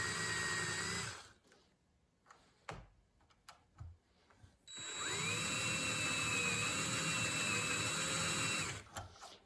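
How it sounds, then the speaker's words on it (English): An electric drill turns slowly as it bores a hole through copper backed against an aluminum block, a steady whirring motor hum that runs for several seconds after an earlier stretch of quieter handling noises. "Turn the drill really slow."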